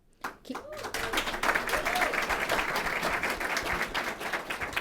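Audience applause for Congressman Keith Ellison at a conversation event with Somalia's president: clapping starts after a few voices and swells into steady, sustained applause from a room of people.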